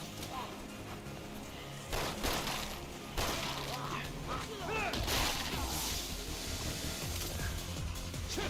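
Gunshots from a headshot in the Resident Evil 6 video game, several sharp cracks at irregular intervals over game music and ambient rumble, moderately loud.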